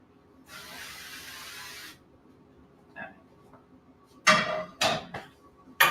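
Avocado oil sprays from a can into a pan for pancakes, a steady hiss lasting over a second, followed by clatter of kitchen utensils and brief voices nearby.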